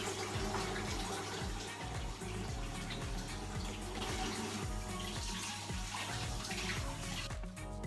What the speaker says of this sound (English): I'm gonna go to the sink and wash my hands.